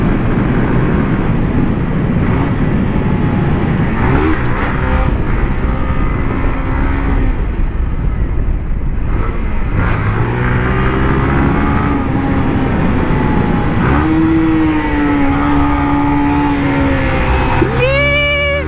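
A new motorcycle's engine roars loudly as it is ridden up to a speed bump, revs rising and falling through gear changes, with wind rush around it.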